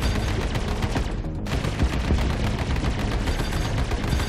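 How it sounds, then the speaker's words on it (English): Ship-mounted weapons in the Star Citizen video game fire in rapid bursts, loud and dense ballistic and energy shots that pause briefly partway through and then resume without letup. "Fire and control bursts."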